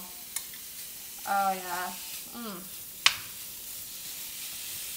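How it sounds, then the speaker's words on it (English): Ground beef sizzles in a pan on a stove over high heat, a steady soft hiss running beneath a short spoken exclamation and a sharp utensil click. "just pour this meat right on here. Oh, there we go. Hear that sizzle."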